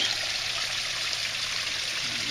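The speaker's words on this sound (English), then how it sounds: "It's rushing water." Rushing water from an artificial garden creek fed by pumps, beside an arching bridge, a steady broadband wash that fills the whole span without break, close and fairly loud, with no voices.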